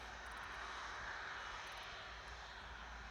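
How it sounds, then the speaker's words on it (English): An Air China Cargo Airbus A330 arriving from Stockholm produces a faint, distant, steady roar of jet engines, continuous and unbroken throughout. "So this is the Air China Cargo Airbus A330 coming in from Stockholm"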